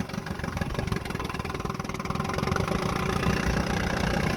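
A 1958 Johnson 10 hp outboard motor idles on a lake, a steady, loud, close mechanical putter that grows slightly stronger toward the end.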